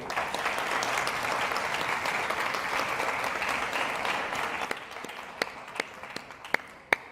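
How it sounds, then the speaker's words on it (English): A convention audience at a vaping and marijuana symposium applauds in a dense, steady wash for several seconds, then thins out to a few scattered, isolated claps. "I think we should give him a round of applause, don't you?"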